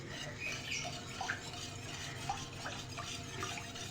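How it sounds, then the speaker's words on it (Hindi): An egg whisked into cold milk for custard seviyan, giving a steady, close wet stirring and sloshing with light clinks from start to finish. "अंडा डाल के हम दूध को बहुत अच्छी तरह से फेंटेंगे"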